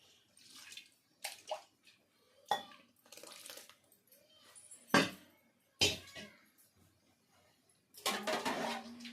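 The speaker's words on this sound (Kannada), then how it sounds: "ಕಾಯಿಂದಕ್ಕೆಲ್ಲ ಸ್ವಲ್ಪ ಬಿಸಿನೀರು ಹಾಕೊಂಡು ಮಿಕ್ಸ್ ಮಾಡಿ ಹಾಕ್ತಾ ಇದ್ದೀನಿ" Hot water poured into ground coconut masala for a farm chicken sambar and mixed in, heard as short, separate bursts of pouring and scraping amid quiet gaps.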